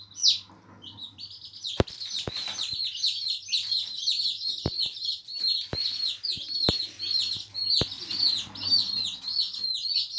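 Fifteen day-old chicks peep continuously in a box, a busy chorus of high thin cheeps close to the microphone, with a few sharp knocks and taps scattered through and no talking.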